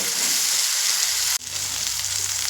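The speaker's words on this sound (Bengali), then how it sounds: "সেই মশলা দিয়ে দেব আর সঙ্গে দেব হলুদ দিয়ে খুব সুন্দর করে মশলাটা কষিয়ে নেব" Spice paste with turmeric frying alongside fried onions for a greens dish, a steady loud sizzle that breaks off for a moment and then carries on, with no talk.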